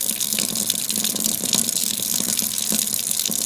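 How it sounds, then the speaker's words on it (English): Warm tap water runs steadily over hands being rinsed, a close, even rushing hiss with faint splashes throughout and no talking. "I'm going to rinse all my hands, which have now been sufficiently cleaned, under warm running water."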